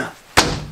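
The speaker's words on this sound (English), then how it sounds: "Big storage door there." A large exterior storage door on a 2020 Jayco Jay Flight 28BHS travel trailer slams shut once, giving a single sharp, loud thud that fades into a short ringing tail.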